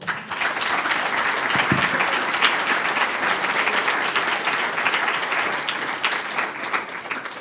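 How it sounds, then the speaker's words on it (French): An audience applauds at the end of a talk, dense sustained clapping from many hands that stays loud throughout and tapers slightly at the close. "On peut les applaudir."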